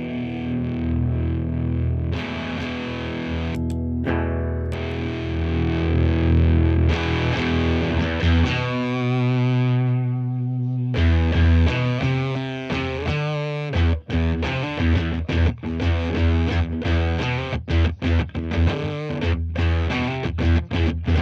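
Electric guitar played through a Devi Ever FX BDSM fuzz pedal set to its torn-speaker side with the worst switch off gives a heavy, saturated, buzzing distortion. Sustained chords give way to a brief quieter passage, then a run of choppy, rhythmic riffs.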